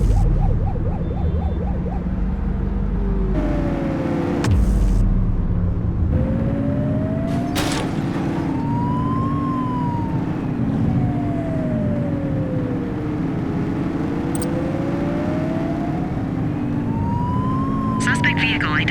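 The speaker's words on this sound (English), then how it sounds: "Looks like we're in for a police pursuit." A police car chase in the game The Precinct, with a siren wailing up and down over a droning car engine for nearly twenty seconds and a few sharp knocks early on.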